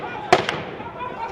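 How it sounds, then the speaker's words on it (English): Gunfire from multiple locations during fighting between rebels and government troops in Mali: two sharp cracks in quick succession, the first louder, then fading noise. "We were taking fire from multiple locations."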